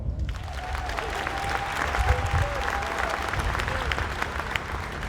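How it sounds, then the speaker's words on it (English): A crowd at an Ohio State Buckeyes football rally applauds in a sustained, dense wash of clapping, fairly loud and even throughout, with faint cheering mixed in. "Y'all give her a round of applause."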